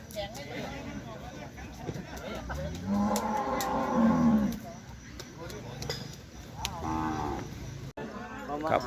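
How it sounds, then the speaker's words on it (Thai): Water buffalo bellow at a buffalo show in Chaiyaphum, Thailand, with long, loud, drawn-out lowing calls around the middle of the clip, while someone talks throughout and a crowd murmurs nearby. "ควายดอนกับควายดำคู่นี้ครับควายงาม"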